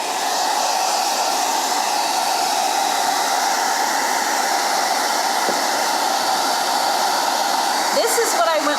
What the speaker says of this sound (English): So I'm gonna hit this with a blow dryer.